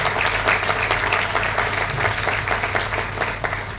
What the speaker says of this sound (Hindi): आप अपने लिए तालियां बजाइए, और सब लोग फिर के लिए तालियां बजाइए